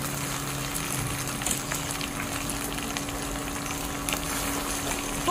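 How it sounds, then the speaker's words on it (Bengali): Paneer fries in a pan, giving a continuous, even sizzle and hiss close up, with a low steady hum underneath and no talking. "এই পনিরগুলো এবার আমি ভেজে নিচ্ছি"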